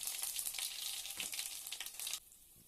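Chili, bay leaf and panch phoron frying in hot oil: a dense, steady crackling sizzle, close and fairly loud, that cuts off abruptly near the end.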